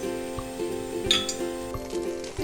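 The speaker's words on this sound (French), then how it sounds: "ajoutez les beignets et faites-les frire sur les 2 côtés" Beignets fry in hot vegetable oil in a deep pan with a soft, steady sizzle, while utensils clink and tap against the pan a few times.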